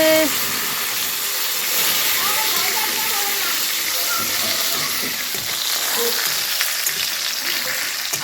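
Fish frying in a pan in a village kitchen, a steady broad sizzle running throughout at moderate loudness, with faint voices and background household sounds mixed in.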